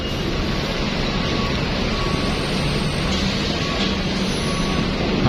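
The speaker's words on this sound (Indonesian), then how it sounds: "Nah ini ada bis Putra Remaja Jetbus 3, jurusannya Jogja Jambi." A Putra Remaja Jetbus 3 coach boarding a ferry at a harbor, a continuous loud diesel engine roar and broadband rumble echoing in the vessel, with faint tonal whines over the steady noise.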